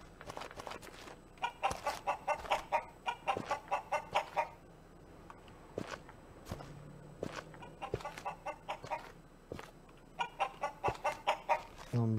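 Chicken in a gladiator school video game clucking in rapid bursts of repeated clucks, close and clear, pausing briefly between runs over quiet background ambience.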